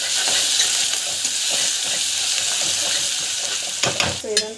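Spices and ingredients sautéing in a pan, a loud continuous sizzle close up, with a few sharper scraping stirs toward the end.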